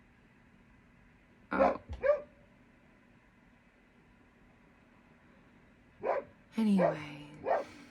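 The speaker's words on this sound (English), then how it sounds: "my dog is barking at me." A dog barks indoors at close range, with a quick pair of barks followed several seconds later by a short burst of three or four more, some with a whiny edge; a person says a word between them.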